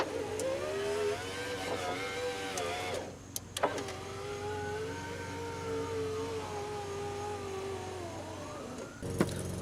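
A neighbor's lawn mower mowing a yard drones steadily from nearby, its engine holding an even hum that dips briefly and carries on, with a few sharp clicks and knocks on top.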